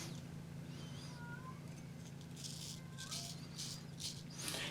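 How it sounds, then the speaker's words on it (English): Faint cat meows heard from behind a bathroom door, a few short thin calls over a steady low room hum, along with some soft rattling scratches at the door toward the end. "He was meowing at the bathroom door, swatting at my feet underneath the door."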